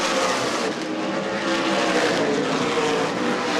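Stock cars race around Winchester Speedway during an ARCA/CRA Super Series event, a loud, continuous roar of engines at full throttle with a dense, sustained drone and no pauses.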